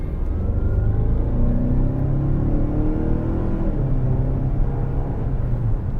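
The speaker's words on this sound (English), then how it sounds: "get a little bit of speed going to the top of this hill so that you can see how much power this thing has" A 2019 Mazda CX-9 Grand Touring accelerates uphill, its engine a steady, loud mid-pitched drone with rising tones building under continuous road and wind rumble for about six seconds.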